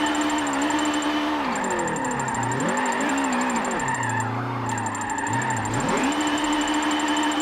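A BMW Isetta's small engine revs hard while drifting. Its buzzy note keeps swooping up and down in pitch, dips low for a moment, then climbs again, loud and unbroken throughout.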